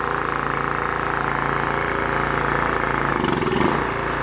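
An old Kawasaki 550 generator engine runs steadily at a loud, even idle throughout, with a brief rise in roughness near the end.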